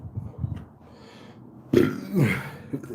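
A single loud, close burp from a man erupts about halfway through after quiet background room sound, with a rough, throaty tail.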